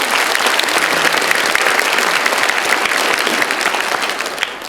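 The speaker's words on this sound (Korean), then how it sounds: "여러분의 모든 사역을 통하여서 우리 영광 받으실 우리 하나님 앞에 영광의 박수 올려드립니다" A church congregation claps together in sustained, dense applause during a revival service, a loud steady wash of hands that tapers slightly at the end, with no talking.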